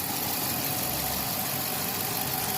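A 2012 police pursuit car's engine idles low and steady after cam and lifter repair work, a continuous close rumble with no talking.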